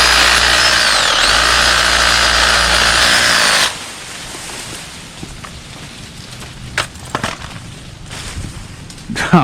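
A Ridgid reciprocating saw fitted with a pruning blade cuts through bush branches, its loud, steady buzzing motor running close for several seconds before stopping, followed by rustling and snapping of branches and some handling noise.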